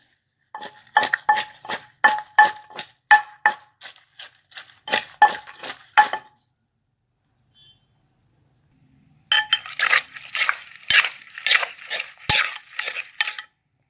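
Papaya salad with lime and pork sausage pounded in a mortar, heard as two bursts of rapid, evenly paced pestle strikes, sharp and close, with a few seconds of near silence between them.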